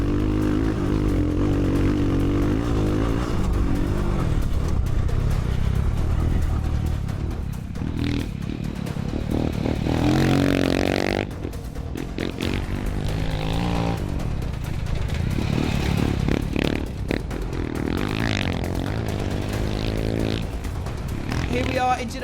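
A Royal Enfield motocross bike revs and accelerates hard through the final turn of a hot lap toward the finish jump, its engine rising and falling continuously, loud and close, with a commentator talking over it.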